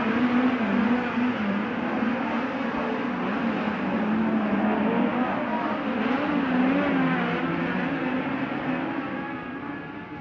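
USAC midget race cars lap Merced Speedway dirt oval, their engines a loud, continuous buzzing roar with rising and falling revs, easing slightly toward the end.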